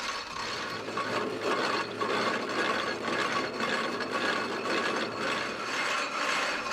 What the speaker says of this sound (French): Le fouloir éclate délicatement les grains de raisin, sans écraser les pépins.